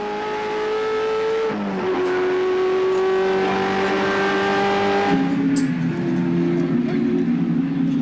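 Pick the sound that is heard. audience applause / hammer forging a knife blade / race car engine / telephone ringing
race car engine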